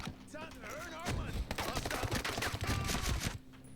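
Shotgun blasts and rapid gunfire crackle in the tactical shooter Ghost Recon Breakpoint, dense overlapping shots with a player's excited voice heard over the din.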